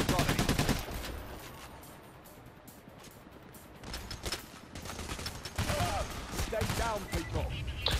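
Rapid bursts of automatic gunfire from the heist shooter PAYDAY: The Heist, loud and close, with a quieter lull between volleys and a player's voice faintly underneath.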